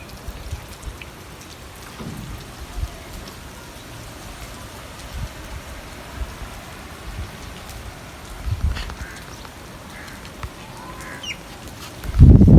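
Very heavy rain pours down in a steady, dense hiss of drops drumming on surfaces, with faint birds and occasional distant rumbles, ending in a sudden loud close thump.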